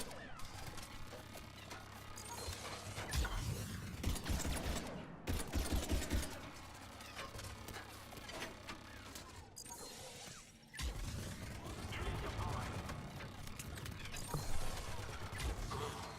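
Turret gunfire in the video game Mass Effect comes as faint, rapid bursts of shots and impacts. The volleys pile up in short clusters with brief gaps and metallic crashes between them.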